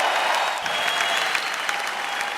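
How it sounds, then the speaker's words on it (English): Steady, loud crowd applause fills the whole stretch for a heavyweight boxing champion of the world, dense clapping with no break and no voices over it. "please give him a round of applause as our heavyweight champion of the world"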